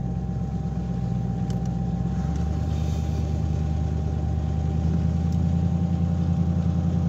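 An Audi A8 quattro engine rumbles steadily at low revs while the car drives through mud, producing a close, even hum with a deep low-end drone and no talking.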